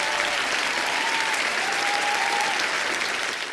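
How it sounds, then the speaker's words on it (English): Loud, sustained applause from a large audience fills the space evenly, with a faint voice rising briefly above it, fading slightly at the end. "please give a warm welcome and round of applause for international speaker Walt Heyer."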